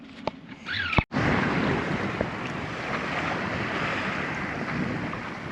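Strong wind buffeting the microphone aboard a sailboat at sea, a loud continuous roar that rises after a brief knock and holds steady, with water sounds beneath.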